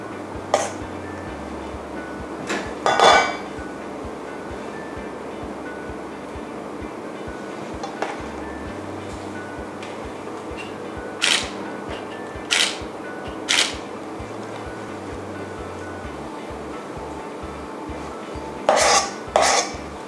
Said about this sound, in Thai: ทีนี้เราก็จะตักใส่ถ้วยทาร์ตนะคะ